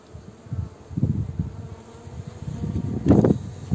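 Honeybees buzz steadily at an open hive during a summer brood-frame inspection, a dense close drone that swells in waves with louder passes near the microphone.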